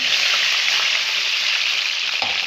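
Cumin and chili paste sizzle in hot tempering oil as a loud, continuous hiss and crackle of frying, with a small stirring clatter near the end and no talking.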